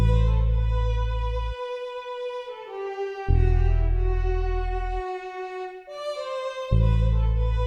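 Layered cello, bass and horn lines from SRX Orchestra and Morphine sounds in an R&B sample, sustained harmonic chords shifting every couple of seconds over a deep pulsing low end, steady and close with no talk.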